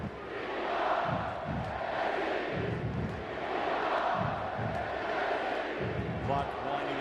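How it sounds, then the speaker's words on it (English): Stadium crowd at the Coliseum roaring in a sustained ovation for USC quarterback Matt Barkley late in a UCLA at USC college football game, a steady wash of distant cheering with thumping swells, under faint talk. "The crowd wanting to give Matt Barkley the ovation he deserves"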